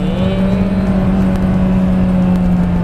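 A 2006 Ford Focus 2 with a 1.6-litre engine runs steadily at high revs, a loud, smooth, continuous drone close by with no speech.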